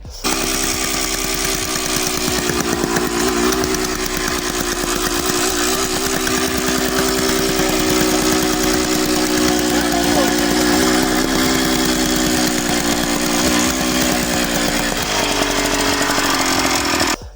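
A Robin EC12 two-stroke tamper engine runs steadily at close range, a loud, buzzing, continuous drone that holds even and keeps its constant pitch throughout with only slight wavering.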